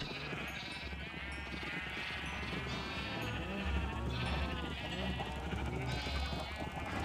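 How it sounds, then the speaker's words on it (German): Sheep bleat repeatedly on a rooftop farm in Minecraft, several overlapping calls mixed with speech throughout. "Oh, wir haben so wenige Schafe jetzt."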